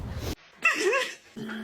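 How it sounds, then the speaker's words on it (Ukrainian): A dog's short yelping bark, rising and falling, sounds once, fairly close and loud. It sits between brief bursts of other noise, with no speech over it. "Це була собака?"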